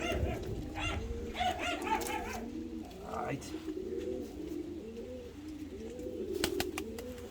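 A showy red-speckled pigeon from Kayseri, let out of its box, coos and flutters softly several times while people talk nearby.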